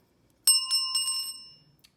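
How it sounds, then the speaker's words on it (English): A small triple goddess bell, a ritual bell used alongside tarot cards, rings out bright and clear, struck a few quick times and then left to fade into silence, with no voices. "triple goddess bell"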